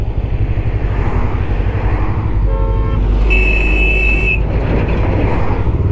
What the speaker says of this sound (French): il y en a qui klaxonnent